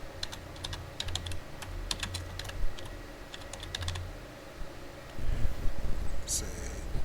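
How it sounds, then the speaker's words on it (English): Typing on a computer keyboard during a PowerPoint exercise, with quick bursts of close keystrokes broken by short pauses, over a low steady room hum. "click on where it says text, and you type in Susan Aikman"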